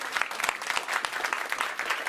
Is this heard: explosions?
no